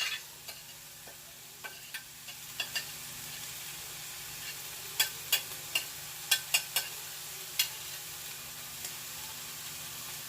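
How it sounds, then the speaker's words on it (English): Cabbage and carrots being stirred in a pot for Jamaican steamed cabbage, a soft steady sizzle with scattered light clicks and taps of the spoon against the pot, fairly quiet and close, with no talking. "I'm gonna stir it around."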